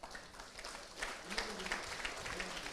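A theatre audience at a TV5 youth conclave claps to welcome a young entrepreneur onto the stage, a steady wash of applause at moderate distance with some voices mixed in.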